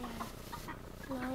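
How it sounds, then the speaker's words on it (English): A soft hen held close makes a few quiet clucks and brief calls, short tonal notes scattered over a faint background. "Deke, tell me about your chicken"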